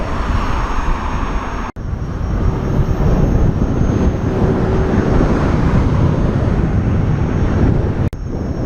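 Strong headwind buffets the microphone while riding a King Song 18L electric unicycle, a loud continuous broadband rush and roar with two brief sharp dropouts, no one speaking.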